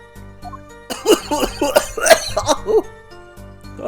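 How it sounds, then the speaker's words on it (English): A short burst of several close coughs and throat-clearing sounds over a faint, steady musical hum. "Cough."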